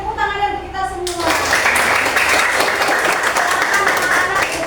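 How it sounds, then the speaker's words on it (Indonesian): Children's group applause in an Indonesian school classroom during a teaching practice lesson, starting after a brief spoken line and then holding steady as a dense, loud burst of clapping. "Tepuk tangan dari kita semua."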